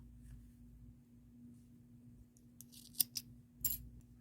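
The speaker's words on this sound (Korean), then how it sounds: "한 20cm 정도 남기고 잘라주세요" Scissors snip through crochet yarn while finishing a knitted driver cover, giving a few quick, close, crisp cuts in a quiet room.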